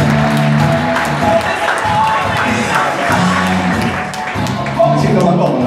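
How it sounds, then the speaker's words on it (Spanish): An audience at a local festival event claps and cheers in a loud, continuous crowd roar, with voices and a steady background tone mixed in throughout. "Dale, Chichi, gracias, fuerte el aplauso."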